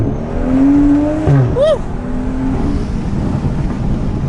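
A BMW M3 accelerating hard, its engine note sweeping up through the revs close by before dropping off as it shifts, with voices talking over the run.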